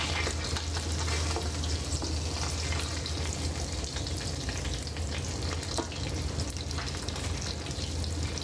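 Eggplant fries in a pan with a dense, steady sizzle and crackle, close up, broken by a few soft scrapes as the pieces are moved, without speech.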